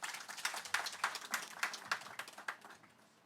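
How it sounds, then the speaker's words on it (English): An audience applauds at a capacity building workshop: a short, fairly faint round of scattered clapping with a slightly uneven rhythm that tapers off. "another round of applause"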